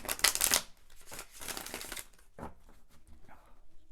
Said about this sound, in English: I cannot tell you how satisfying it is shuffling these cards like this.